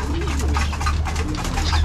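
Caged pigeons in breeding cages coo steadily and close by over a constant low hum, with soft rustling throughout.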